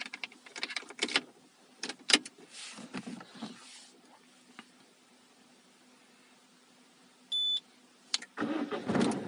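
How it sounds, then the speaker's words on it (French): A car starts with a newly programmed key. Quiet clicks and handling noises come first, then a short electronic beep, and near the end the engine cranks and catches. "Et le véhicule démarre."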